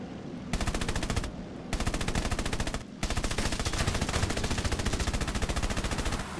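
Airfield anti-aircraft guns opening fire in War Thunder, loud rapid automatic bursts in three long strings separated by brief pauses, a dense, even mechanical hammering with no talk.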